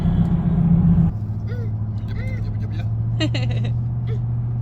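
Steady low engine drone and road rumble from inside a moving car, with a louder stretch at the start and voices talking over the hum later.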